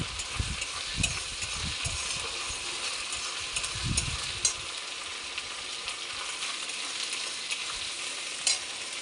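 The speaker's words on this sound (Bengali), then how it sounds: "এই যে আদা রসুনের পেস্ট দিলাম একটু আর একটু দেবো দিয়ে ভালো করে একটু ভেজে নেবো" Ginger garlic paste frying in hot oil, a steady close sizzle with a few sharp spatters and scraping stirs.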